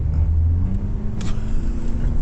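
A 2025 Kia Tasman X-Pro engine rumbles loud and close as the ute labours up a steep off-road angle with some wheel spin, a low steady drone with slight surges in revs.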